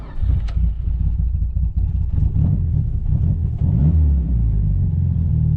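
A car idles just after a new cam sensor is fitted, its engine giving a loud, steady low rumble with faint clattering, close by and without voices.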